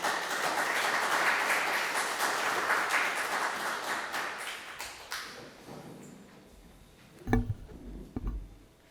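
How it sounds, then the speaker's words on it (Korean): An audience in a lecture hall gives a lecturer warm welcoming applause, a dense burst of clapping that runs about five seconds before thinning out, followed by a couple of sharp taps and knocks in a quieter room. "원광호 원장님을 큰 박수로 맞이해 주시기 바랍니다"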